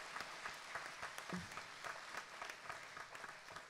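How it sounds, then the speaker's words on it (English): A church congregation applauds mothers over 80 at a Mother's Day service, steady clapping from many hands filling the room at a moderate distance. "let's give them a round of applause."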